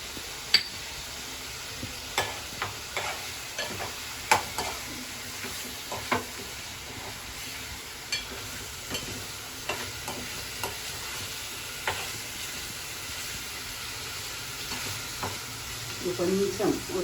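Ground garam masala fries in hot oil with a continuous sizzle, broken by regular scraping stirs of a spoon against the pan throughout.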